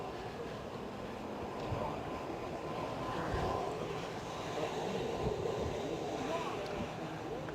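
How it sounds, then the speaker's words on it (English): EasyJet airliner arriving at Bristol Airport during an evening spotting session, a steady broad engine roar that swells gently midway and holds at moderate distance throughout. "we have the business of the inbound EasyJet that I can see"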